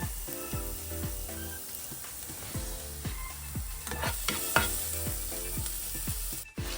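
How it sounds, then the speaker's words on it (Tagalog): Garlic sautés in a pan for pork giniling with a steady, close sizzle and occasional stirring clinks, running continuously under a rhythmic background melody. "nagigisa na ako ng bawang"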